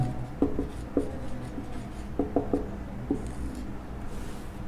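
Chalk or a marker writing on a board during a fluid mechanics lecture makes short tapping, squeaky strokes in small bursts over a hum of room noise, with no speech.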